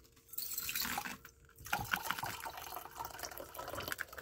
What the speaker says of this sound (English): what we need to do is pour out 100 milliliters of bleach